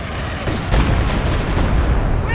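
An artillery barrage pounds German Grenadier infantry in the World War II strategy game Company of Heroes 2: a dense, continuous roar of booming explosions and gunfire, loud and close, with a few sharper blasts breaking through.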